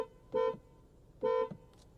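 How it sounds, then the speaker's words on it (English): A 2020 Kia Stinger GT horn sounds two short, loud honks about a second apart, each lasting roughly a quarter second, with quiet between them. "Honking the horn."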